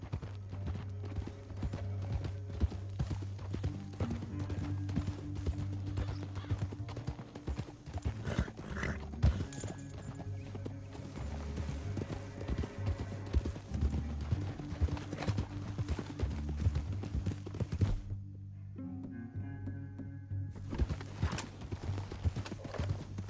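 Steady clip-clop of horse hooves trotting along in the video game Red Dead Redemption 2, with a music score playing beneath and a few brief whinnies.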